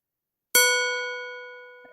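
A synthesized metallic strike rings out after a moment of silence: one sharp bright hit followed by a long, clear, slowly fading tone with steady overtones, alone and close.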